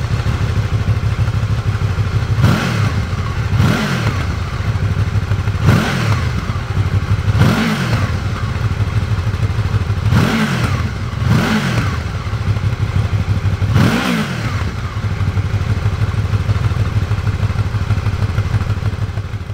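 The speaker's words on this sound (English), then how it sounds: "Let's give it a little rev." A Honda VFR800 Crossrunner motorcycle fitted with its standard exhaust and baffle idles loudly and steadily, with six or seven short throttle blips rising and falling in pitch over the constant engine rumble.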